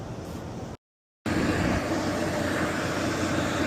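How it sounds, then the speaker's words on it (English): A repaired Carrier Eco Blue air conditioner fan motor, a 460-volt, 625-watt unit, hums and whooshes steadily up close. The sound cuts out briefly near the start, then resumes louder and continues without speech. "And just like that, motor's running."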